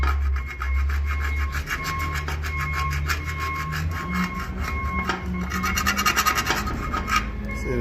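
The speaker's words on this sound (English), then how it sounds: "any excess rust, you want to scrape it out like that" Rust is scraped off the body of a 1967 Chevy Impala convertible, close rasping scrapes repeating in uneven strokes over a low background hum.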